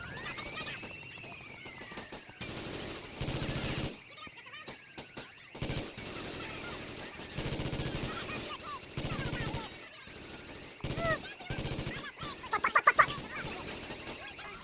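Gunfire aimed at police in GTA IV crackles in repeated bursts amid game sounds and a siren-like wail, with people talking over the action and a loud flurry of shots near the end.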